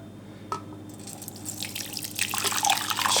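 Filtered homemade garden coffee poured from one container into another, a close trickle and drip of liquid that builds steadily and grows louder toward the end, with no voices.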